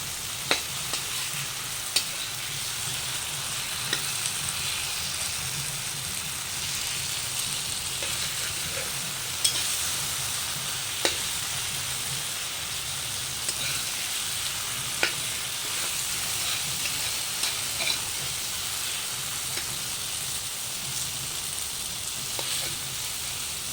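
Tomatoes and spices for Bengali potol dorma sizzle steadily in a pan, with light scrapes and taps of stirring over the constant frying hiss. The sound is close and even throughout, with no talking.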